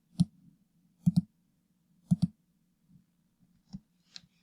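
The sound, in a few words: mouse double-clicking in Photoshop tutorial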